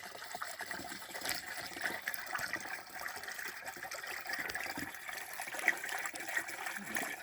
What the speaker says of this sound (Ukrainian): І водичкою поливаємо, змиваємо його.